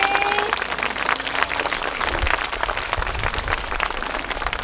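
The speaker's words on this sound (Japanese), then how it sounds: "嬉しい拍手ですね。" After a Nabekura hayashi festival music performance in Yokote, Akita, an audience claps steadily and warmly for several seconds, with a brief tonal note fading at the start.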